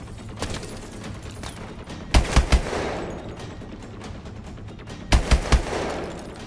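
Short bursts of automatic weapon fire in the game Call of Duty: Advanced Warfare, loud and close, with two clear three-round bursts and some lighter shots and rumbling in between; no talking.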